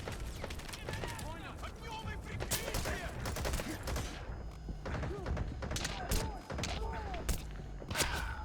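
Mortar and gunfire in Metal Gear Solid Phantom Pain, a run of heavy thuds and bursts scattered through the clip, loud and near, with voices talking over the battle.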